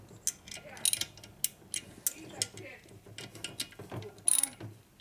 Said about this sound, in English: Little mini ratchet.